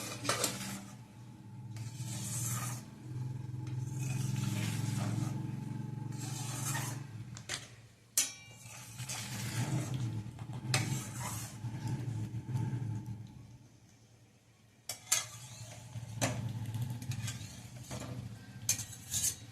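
Thick rice flour dough (ukad) stirred in a pot, with dull scraping and knocking from a spoon against the vessel in uneven bursts, plus a low steady rumble and short lid clanks, close by.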